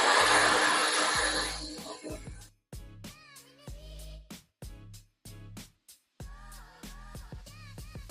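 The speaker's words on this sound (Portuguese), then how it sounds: "Vou começar a secar esse cabelo da parte de trás." A hair dryer roars loudly as a brush works through the back of short hair, then cuts off after about two seconds; intermittent voice-like sounds follow in the quieter remainder.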